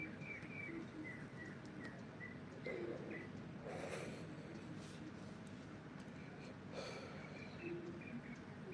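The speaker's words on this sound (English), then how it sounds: "Can you hear the birds chirping outside?" Birds chirp outside a house at six in the morning, with small repeated tweets and calls that are faint and distant. A soft background hum runs underneath, and a few louder, noisier bursts come through now and then.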